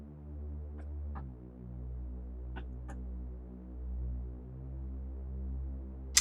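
A plain, vanilla synth bass holds a steady low, sustained tone through an EDM pop chord progression, droning continuously with gentle swells and a few faint higher blips over it, ending on a sharp bright click.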